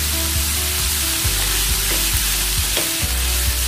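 Onions sautéing in a pan with a little salt, frying at a steady sizzle, with repeated scraping strokes of a spoon and a few brief clinks, close and without voices.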